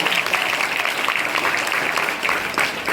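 Applause from a school audience for a group that answered a cleanliness quiz question correctly, a steady, dense patter of many hands clapping at moderate distance for about three seconds with no voices.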